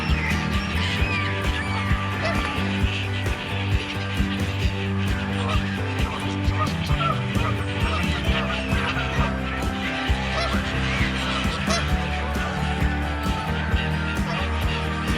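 Gulls calling in a busy flock around a small group of goosanders on a park lake in Queens Park, Crewe, a dense layer of overlapping squawks and cries with faint honking, continuous throughout.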